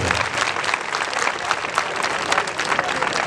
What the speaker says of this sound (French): Il faut vous applaudir vous-même pour avoir réussi